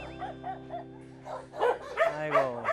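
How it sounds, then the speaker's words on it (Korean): Dogs at an animal shelter bark, yip and whimper in a run of short, overlapping calls that grow louder toward the end, echoing in the kennels, with no talking. "다른 강아지들이 짖으니까"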